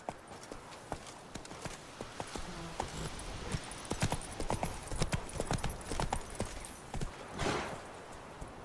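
Roach, the horse in The Witcher 3, gallops with rapid, loud clip-clopping hoofbeats in a driving rhythm, close and continuous over the game's background sound, with a burst of noise near the end.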